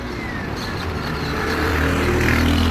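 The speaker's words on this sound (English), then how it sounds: "now I'm on the main road, so it's a lot louder. Cars zooming by" Cars zooming by on a busy main road, a loud, continuous roar of passing traffic that swells slightly as vehicles go past close by.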